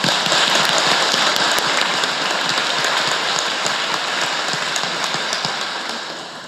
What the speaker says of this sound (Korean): 이아이들 위해서도 박수 부탁드리겠습니다